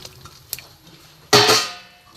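A lid set down on a pot of papaya and potato pieces boiling in water with a little oil gives a single sharp metallic clank with a short ringing decay, after a few faint kitchen knocks.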